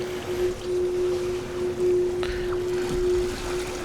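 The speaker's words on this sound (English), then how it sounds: "What we hear in the background is the steering pump." A steady mechanical hum from a steering pump runs continuously aboard a 21 m aluminium sailing catamaran, with faint water and wind noise around it.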